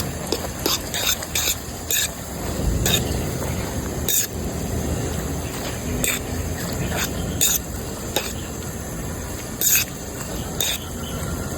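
Carbonara sauce made with evaporated milk being stirred in a pan alongside Samyang Buldak noodles, giving steady scraping, clinking stir strokes over a soft simmering sizzle, with no talk.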